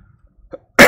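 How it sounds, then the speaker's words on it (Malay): A single sharp, loud cough right up close, bursting out suddenly after near silence at the very end. "sorry saya batuk lah"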